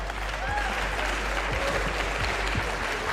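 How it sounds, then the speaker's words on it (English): Roaring audience applause at a demo party's awards ceremony, a dense steady wash of many hands clapping throughout, loud and close. "you can clap."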